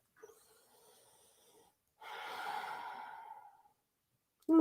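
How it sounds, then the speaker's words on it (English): Slow, deep breaths during a seated forward-fold yoga stretch: a long soft exhale, a pause, then a fuller, louder breath lasting over a second, ending in a sudden close sound. "One more breath."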